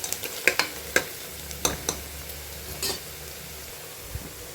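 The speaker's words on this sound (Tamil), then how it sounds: "வெங்காயம் நல்லா வதங்கிக்கிட்டு இருக்கு" Onions sauté in a pan with a soft steady sizzle, broken by several sharp scrapes and taps of a stirring spoon against the metal, close by and with no talking.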